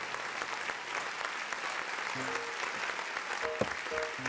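Fairly quiet applause from a studio audience on a French-language entertainment show, a continuous patter of clapping with brief voices and tonal sounds breaking in partway through.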